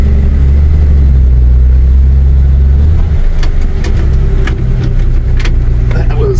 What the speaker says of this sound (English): First gear, here we go.